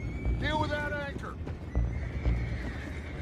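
Horses whinny in Red Dead Redemption 2, one loud rising-falling neigh near the start, followed by dull hoof thuds, with a voice talking over the game sounds.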